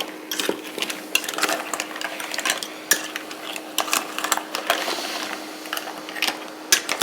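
Mussels are stirred with white wine in a pot, producing close, rapid clattering of shells against metal with sharp clicks and rattles over a steady simmering hiss.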